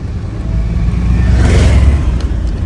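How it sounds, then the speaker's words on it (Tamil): A small tractor rumbles past on a forest road on the Karnataka–Kerala route toward Wayanad, its low engine drone swelling as it draws near and easing as it moves off, loud and close. "பாருங்க குட்டி டிராக்டர்."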